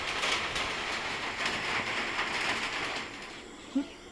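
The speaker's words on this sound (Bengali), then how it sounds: "বাইরে বৃষ্টি পড়ছে" Steady rain falling outdoors, a continuous broadband hiss of drops on surfaces holding fairly even throughout, with one brief low thump near the end.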